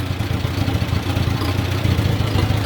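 A 1950s Farmall Model A tractor, an unrestored working machine converted to a 12-volt system, idles steadily nearby with an even, low-pitched chugging engine rhythm and no talk.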